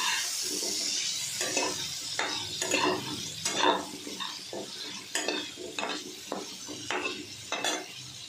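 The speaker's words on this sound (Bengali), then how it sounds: "আমড়াগুলো দিয়ে দেবো। এগুলো নুন হলুদ দিয়ে একটু ভেজে নিলাম।" Hog plums frying with salt and turmeric after a tempering of five-spice, dried red chilli and bay leaf, for a lentil dal; steady close sizzling with repeated spatula scrapes and clinks against the pan, no voices.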